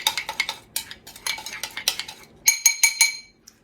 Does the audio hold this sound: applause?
no